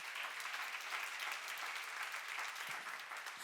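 Church congregation applauding at a Korean worship lecture, a dense, steady wash of clapping hands that fills the whole moment without pause, moderately loud and even, with no voices rising above it.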